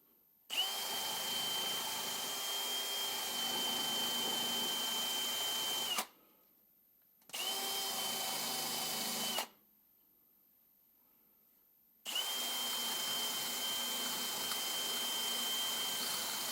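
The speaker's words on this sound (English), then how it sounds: "And I just try to start with the wire brush and see if that's enough." A power drill fitted with a wire brush cleans a part from a Volvo 460 T5 AWD car, whining steadily in three bursts, long, short, then long, separated by silent pauses, loud and close.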